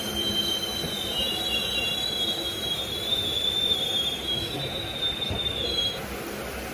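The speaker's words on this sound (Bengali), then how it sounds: "হাওড়া স্টেশনে দু মিনিট মাত্র হল্ট করে কাঁথি স্টেশন থেকে আবারও রওনা দিল কান্ডারি এক্সপ্রেস" Kandari Express pulling out of Kanthi station at night, its wheels squealing loudly and steadily against the rails over a low rumble of rolling carriages, with no talk.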